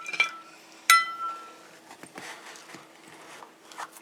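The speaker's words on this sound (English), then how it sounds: "So I'm going to go ahead and I'm going to scoop some now" Scooping coffee cookies and cream no-churn ice cream into a dish with an ice cream spade: a few sharp clinks of metal against the dish, one bright ringing hit near the start, then soft scraping taps, close and without talk.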